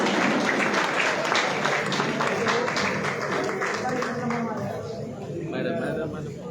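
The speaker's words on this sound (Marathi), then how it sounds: "एकदा जोरदार आपण टाळ्या वाजवूया ताईंसाठी सुद्धा." An audience in Sant Tukaram hall in Barshi claps together at a government camp honouring ceremony, a dense continuous round of applause that stays fairly loud throughout, with chatter mixed in.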